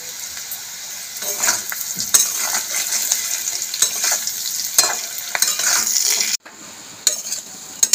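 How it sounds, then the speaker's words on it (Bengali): Potato sticks for masala french fries frying in hot oil give a continuous close sizzle, punctuated by repeated clinks and scrapes of a metal spoon against the pan, with a brief break near the end. "লাল লাল করে ভাজা হয়ে গেছে আলুগুলোকে"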